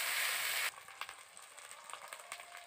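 Onion paste fries in oil with a loud, bright hiss that drops off abruptly after a moment into a softer, uneven crackle and spatter.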